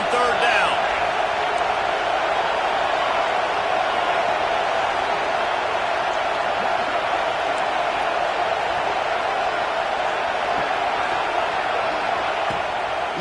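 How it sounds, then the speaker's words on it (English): Stadium crowd at a football game building on third down, a steady, dense roar from a large crowd that holds loud and constant, with a few sharp bangs near the start. "Decibels rising as the crowd gets behind this defense on 3rd down."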